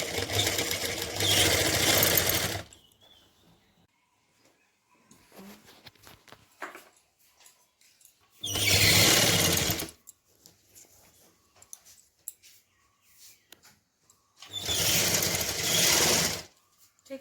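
A sewing machine runs in three loud, close bursts of steady stitching, each a couple of seconds long, separated by quiet stretches with faint handling clicks.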